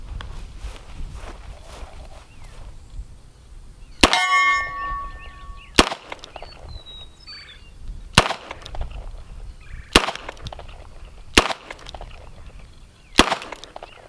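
Six sharp gunshots from a Colt King Cobra .357 Magnum revolver, fired one at a time with irregular pauses between them, loud and close, with a metallic ring trailing the first shot.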